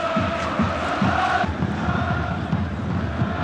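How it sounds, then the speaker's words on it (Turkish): Galatasaray supporters chanting at Ali Sami Yen stadium during a 1996-97 match against Zeytinburnuspor, a loud massed crowd with rhythmic low pulses of chanting and drumming-like beats repeating steadily under a roaring wash. "Seyircinin tezahüratı devam ediyor"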